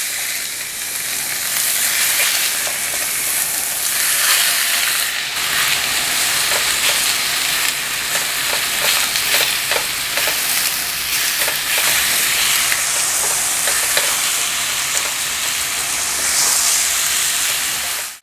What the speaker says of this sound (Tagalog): Lagay lang natin yung ating chicken thigh. Yan lang para maprito siyang konti.